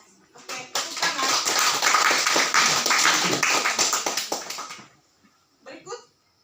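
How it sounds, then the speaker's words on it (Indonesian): A classroom group in a Catholic religious education lesson bursts into applause, a dense wash of clapping lasting several seconds before fading out, with a brief voice afterward. "Oke, tepuk tangan."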